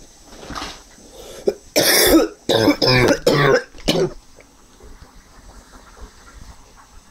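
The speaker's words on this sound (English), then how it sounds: "What's making me cough right now is the weather" A person coughs hard several times in a quick cluster of loud bursts, with throat clearing around them, close up over a quiet hissing room background.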